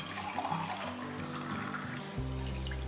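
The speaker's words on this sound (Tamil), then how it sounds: "1/4 கப் அளவுக்கு நம்ம தண்ணி ஊற்றிக்கலாம்." Water poured from a cup into rice flour for kozhukattai dough, a steady, soft, continuous pouring rush that holds for a few seconds.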